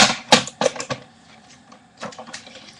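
Paper pieces for a handmade Mother's Day card cut several at once, a run of sharp crisp snips and clacks close by, a busy cluster early then a pause and a few more cuts.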